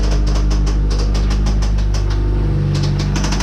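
A station wagon engine idles steadily after repair, a smooth low rumble with even rhythmic ticking pulses, loud and close, running alone without voices.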